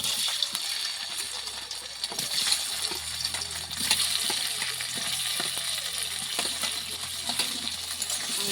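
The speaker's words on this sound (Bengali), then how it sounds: "আলুগুলি প্রথমে সিদ্ধ করে রেখেছিলাম, এখন ভেজে নেব।" Boiled potatoes frying in a pan, a steady bright hiss and crackle with scattered sharp pops and clinks throughout, fairly close and continuous with no talking.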